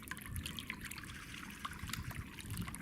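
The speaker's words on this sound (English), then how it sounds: "it's actually pumping the water through the water, if you like, to give that bubbling effect" Water from a homemade three-tiered garden fountain bubbles and trickles steadily over pebbles and stones, a soft, continuous babble with small drips. It sounds close and quiet, with no talking.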